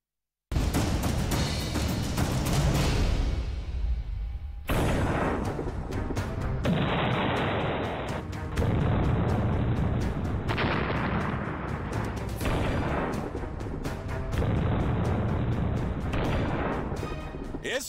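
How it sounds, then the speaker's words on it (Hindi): Artillery cannon fire in the war in Ukraine, loud continuous booming blasts in long dense stretches broken by abrupt cuts, with no talk over it. "इस वक्त महायुद्ध में तोपों का मुंह यूक्रेन के पूर्वी और दक्षिणी इलाकों में मुड़ा हुआ है।"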